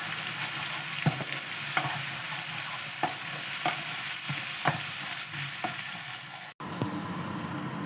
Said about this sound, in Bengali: এবারে ভালো করে এটাকে ভেজে নেব।